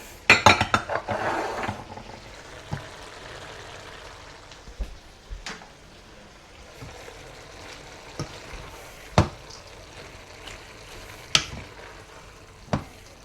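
Shallots and carrots stirred in a sizzling pan, with a burst of clattering utensil scrapes at the start followed by sparse, sharp clinks of a spoon against the pan over a low frying hiss.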